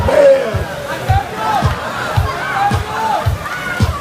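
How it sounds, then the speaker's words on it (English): A crowd of spectators at a drone race roars and shouts excitedly in a dense, loud babble, with overlapping voices rising and falling close by. "The crowd goes wild."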